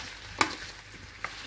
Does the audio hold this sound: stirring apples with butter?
yes